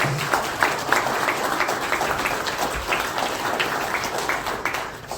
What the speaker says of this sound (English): Please give this gentleman a round of applause.